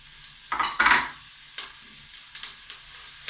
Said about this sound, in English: So we're just going to give that a lovely stir, and I want the onions to be sauteed fairly well